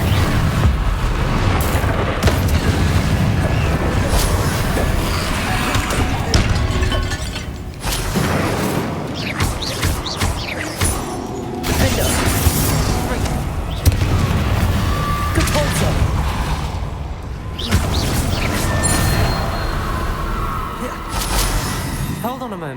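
Spell blasts from the Incendio fire charm in the Hogwarts Legacy video game, a run of loud booming bursts at intervals over dense game sound, with speech running through it.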